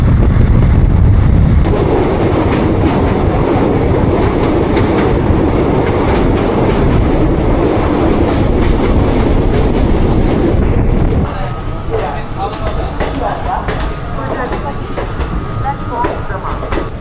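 The Teesta Torsa Express rumbles loudly along the rails between New Jalpaiguri and Kolkata with constant clatter and roar, easing to a quieter, squealing run toward the end.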